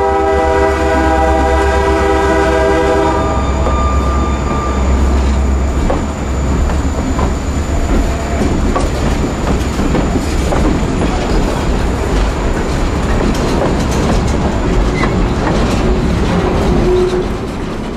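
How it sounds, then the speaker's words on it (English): Freight train passing, led by ex-Canadian National GP40-2 diesel locomotives with snow sheds over the air intakes and an ex-Boston and Maine GP40-2 trailing, a loud horn blast opening before steady wheel rumble and clatter of cars rolling past. "ex-Canadian National GP40-2s with snow sheds still over the air intakes"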